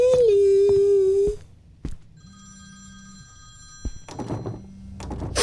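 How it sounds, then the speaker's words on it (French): A telephone rings out with a loud sustained electronic tone, then falls quiet before a fainter ring returns, with thumps and clattering footsteps near the end, in a haunted-house horror game. "J'ai essayé d'appeler Émilie sur son téléphone. Très bonne idée, comme ça va sonner"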